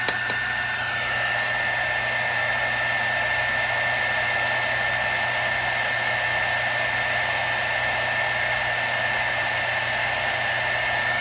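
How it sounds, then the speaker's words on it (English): Heat gun blowing hot air steadily for heat embossing on a craft project, a continuous loud whooshing roar with a high whine, running unbroken and alone throughout. "Keep your heat gun on."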